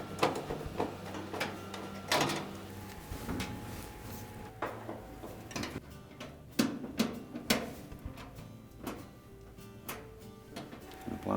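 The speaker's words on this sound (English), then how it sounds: "The remaining two screws from the opposite side off." Screws being removed from the front panel of a Maytag dryer during a belt repair: a string of faint clicks, taps and metallic ticks scattered irregularly across the span, close by, with a low steady hum underneath.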